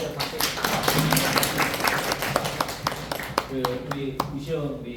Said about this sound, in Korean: 수고하셨어요. 박수.